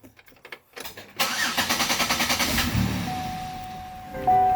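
A car engine cranks with a rapid rhythmic whir, catches and settles into a steady idle on its first start after a new battery was fitted, close and fairly clear.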